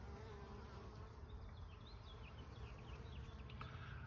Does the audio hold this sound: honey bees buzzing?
yes